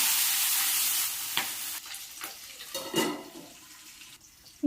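Green chilies and sesame seeds fry in a pan for a Telugu pachadi, giving a steady close sizzle for about a second, then fading to quieter hissing broken by a few scraping stir strokes and a sharp clatter at the end.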